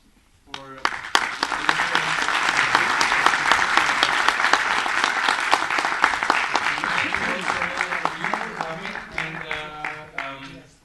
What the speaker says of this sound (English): I hope you all join me in a round of applause